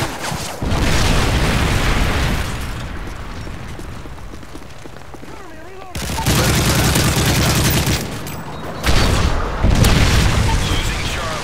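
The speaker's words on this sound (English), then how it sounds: "Friendly predator missile inbound." Predator missile explosions in the video game Modern Warfare 3, heavy booming blasts with rumbling tails and surrounding gunfire, a loud burst early, a quieter rumble, then more blasts near the end, with a game announcer voice heard.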